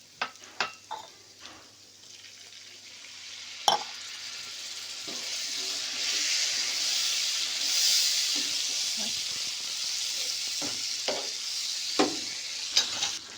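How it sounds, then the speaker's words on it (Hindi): Steady hissing sizzle of spices tempering in hot oil for Lahori chickpeas, with a few sharp clatters of a spoon against the pan at the start and end. "अब हम इस पर मैं ये तड़का डालने लगी"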